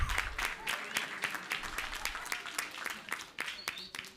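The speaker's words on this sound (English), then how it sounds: "Can y'all give them another rousing round of applause?" A round of applause from the audience at a January board meeting, moderately quiet and steady, with scattered sharp claps over a softer background wash.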